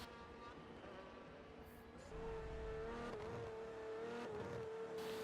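The Aston Martin Vulcan in Forza Motorsport 7 gives off a faint, steady engine drone with a sustained tonal whine. It rises slightly in pitch and loudness partway through, like a car holding speed.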